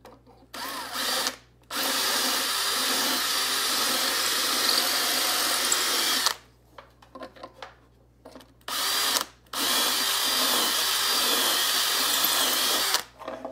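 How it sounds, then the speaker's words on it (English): A power drill bores holes in a workpiece in several loud, sustained whining bursts separated by short pauses, close up with no talk. "Drill the holes."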